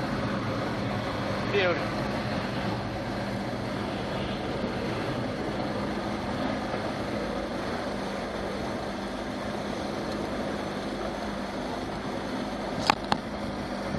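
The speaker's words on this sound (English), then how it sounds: "Kicking and running, Johnson 90 horsepower." A Johnson 90 hp V4 outboard motor runs steadily on a boat on the Potomac River, a constant broad engine and water rumble throughout with someone speaking briefly over it and a couple of sharp clicks near the end.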